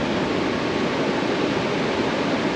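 A strong river current rushes steadily, a dense, even hiss of flowing water heard up close for a few seconds with no other sounds.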